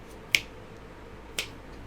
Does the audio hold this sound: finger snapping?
yes